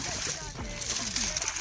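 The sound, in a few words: irrigation water released into a field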